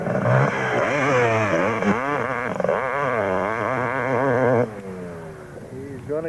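Racing motorcycle engine during an off-road race, repeated rising and falling revs as the rider shifts and accelerates, loud and close, then cutting off sharply near the end with a voice talking over it.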